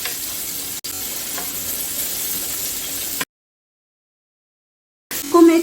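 Cabbage, capsicum and carrot fry in a pan with a loud, steady sizzle. The sizzle cuts out completely for about two seconds, then returns sharply.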